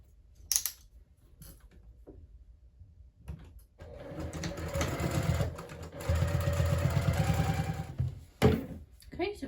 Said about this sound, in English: I'm just gonna go ahead and top stitch on either side of both of these.